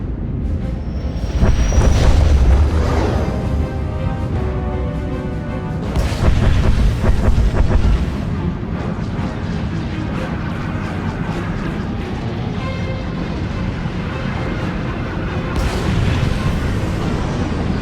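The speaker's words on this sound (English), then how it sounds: "Proceeding with bombardment, targeting all major population centers." Starship bombardment in Star Wars: The Old Republic pounds a planet's population centers, with deep rumbling booms and heavy explosions rolling continuously, loudest early on, over a dense layer of battle noise.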